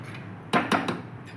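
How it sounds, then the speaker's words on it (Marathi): A spoon stirs kaju paneer masala in a pan on the switched-off stove, giving two or three quick metallic scrapes and clinks in a quiet room. "मी ना अशी नॉर्मल हलवते"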